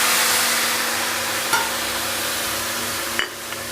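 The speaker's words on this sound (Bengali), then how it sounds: "এবার এর মধ্যে দিয়ে দিচ্ছি আমি কাশ্মীরি লঙ্কার গুঁড়ো, লাল লঙ্কার গুঁড়ো আর হলুদ দিয়ে সাথে সাথে একটু জল দিয়ে দেবো" Kashmiri chili powder, red chili powder and turmeric with a splash of water sizzle steadily in a hot pan, a close, continuous hiss broken by a couple of faint utensil clicks.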